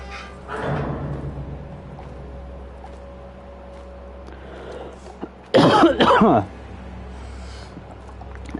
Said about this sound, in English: And then I cough right after I get it.